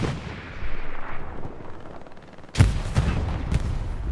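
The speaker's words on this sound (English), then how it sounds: "Explosions making it more cinematic." Battlefield explosions and gunfire on Omaha Beach at West Vierville in a World War II game, with a low rumbling barrage that breaks into a sudden loud blast and sharp bursts of shots, heard with no talk.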